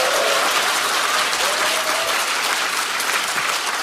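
Audience at a Democratic Party new members' academy in Korea applauds loudly and continuously, a thick wall of clapping with faint crowd noise beneath.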